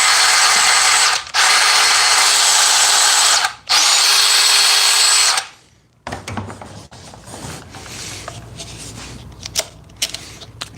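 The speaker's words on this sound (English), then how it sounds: "Deep cut bandsaw right here." An old deep-cut portable bandsaw runs loud and steady in two bursts separated by brief gaps, then stops, leaving quieter handling clatter and knocks.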